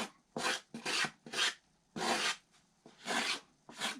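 A razor plane scrapes along the sides of a wooden control-line model aircraft part in repeated rasping strokes, about seven in a steady rhythm, close and fairly quiet.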